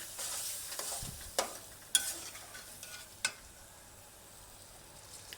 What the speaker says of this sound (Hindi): ऑयल सेपरेट होने तक भून लेंगे।